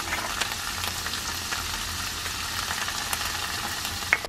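Food seasoned with pepper, salt and paprika sautés in a pan, a steady soft sizzle with faint crackles running throughout and a brief clink near the end.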